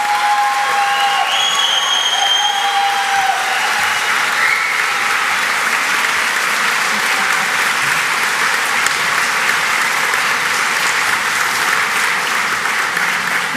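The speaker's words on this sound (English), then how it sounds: "why don't we just give a final huge round of applause to everybody who had the courage to walk across that stage" A large crowd at the West Lothian College graduation ceremony gives a long, loud, unbroken round of applause for the graduates, with faint cheering mixed into the steady clapping.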